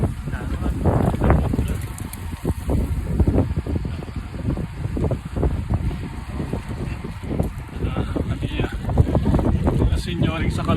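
Strong wind during a group bike ride roars against the microphone in loud, rapid gusty bursts throughout, with speech faintly mixed in.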